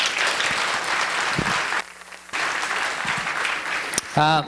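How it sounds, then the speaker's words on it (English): An audience at a convention hall bursts into sustained, dense clapping that briefly dips and then resumes, with a voice speaking near the end. "so a big round of applause, please."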